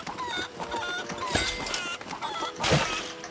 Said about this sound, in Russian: курица, угомонись